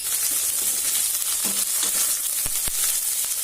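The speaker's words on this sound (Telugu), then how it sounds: "ఉల్లిపాయ వేగిపోయిందండి అల్లం వెల్లుల్లి పేస్ట్ వేసుకుంటున్నాను" Sliced onions and ginger-garlic paste sizzle steadily in a hot pan with oil, a dense continuous crackle, with a couple of sharp clinks from a spoon near the end.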